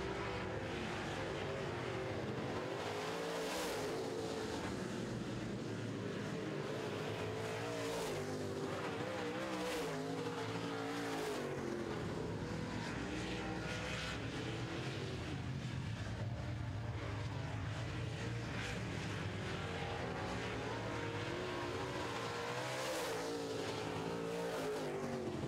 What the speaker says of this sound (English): Mike Balkan coming up to lap his cousin George Balkan in the red and white 14